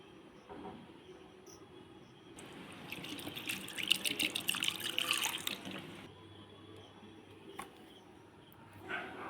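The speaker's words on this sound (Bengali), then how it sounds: "এবারে চিড়েটাকে আমি ভালো করে ধুয়ে নেব দু তিনবার জল পাল্টে পাল্টে পরিষ্কার করে ধুয়ে নিতে হবে" Thick flattened rice (poha) is rinsed in water. A few seconds of running, splashing water swell up near the middle, then fall back to quiet handling sounds, with no speech.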